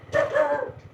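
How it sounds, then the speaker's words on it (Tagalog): Dog barking outdoors along a rural village road, a short burst of two or three close, fairly loud barks with no speech over them. "May aso."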